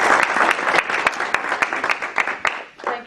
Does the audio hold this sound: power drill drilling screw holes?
no